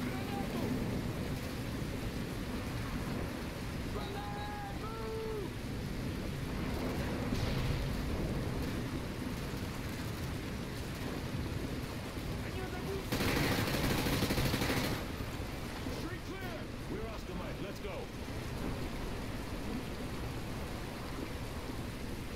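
Rain and a thunderstorm with lightning in the video game Call of Duty: Modern Warfare 2 produce a steady rushing downpour with wind noise and a louder burst of thunder midway, while players talk over it.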